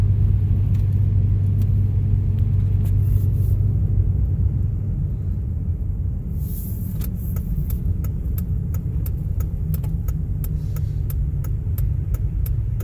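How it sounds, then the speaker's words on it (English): A four-wheel-drive vehicle grinds up an icy driveway, its steady low engine rumble and road noise heard from inside the cab, with faint clicks and ticks scattered throughout and no talk. "Better stick it in four-wheel drive."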